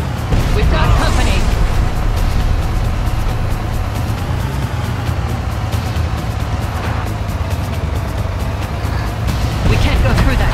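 Car in Far Cry driving through a swamp, a loud, steady engine roar and road rumble with speech and game noises over it.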